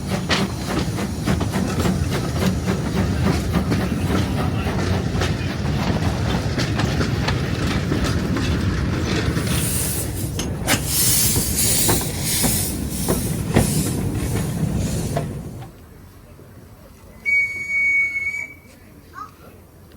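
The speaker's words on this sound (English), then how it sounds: "And here comes the train." A steam train arrives at the Frankfurt Feldbahn Museum with rhythmic clickety-clack and hissing, loud and close for about fifteen seconds before fading, followed by a short whistle-like tone in a quiet setting.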